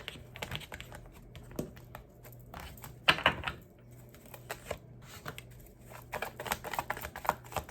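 A deck of tarot cards being cut and handled, with quick papery riffles and soft slaps in irregular bursts, close and quiet, without any voice.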